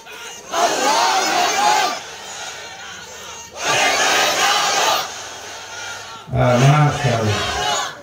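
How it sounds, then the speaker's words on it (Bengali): A large crowd at a Bengali religious gathering roars a takbir chant in three loud, surging collective shouts, each lasting a second or two, separated by brief pauses, with a leading voice calling out before the final response. "সামনে থেকে একজন নারা তাকবীর দেন।"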